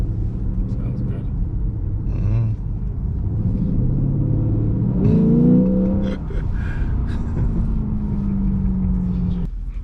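A 2024 Lexus IS500 V8 rumbles and revs while driving in Sport Plus mode, heard from inside the cabin as a low steady drone with a brief rising surge midway, while someone talks over it.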